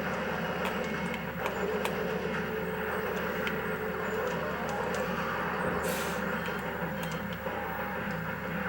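Train rolling along railway tracks in the Time Crisis II shooter game, a steady continuous rumble with faint ticking clatter running throughout at an even level.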